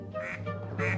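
Ducks quacking in the Blue Toad Murder Files video game, a short run of loud, close quacks in two bursts over a steady game backdrop.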